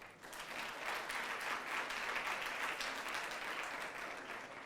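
A studio audience at an a cappella singing contest applauds a contestant, dense and continuous clapping that rises quickly and holds steady, heard from a distance and fairly faint.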